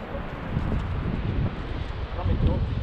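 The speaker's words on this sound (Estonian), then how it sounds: "Jahe tuul on mõnus." A cool wind blows on the Everest base camp trek, buffeting the microphone with a steady low rumble that swells in gusts.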